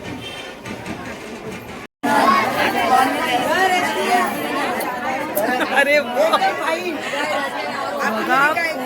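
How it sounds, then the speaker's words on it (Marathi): A wedding procession crowds a road, with dense overlapping chatter of many voices up close, loud and continuous after a brief quieter start and a short gap. "खूप गर्दी आहे पब्लिक आहे"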